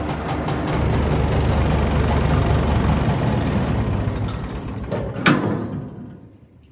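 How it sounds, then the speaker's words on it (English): A tractor engine rumbles loudly and steadily up close, then winds down and cuts out near the end, with a couple of sharp clicks just before the sound drops into quiet. "I'm gonna turn this tractor off"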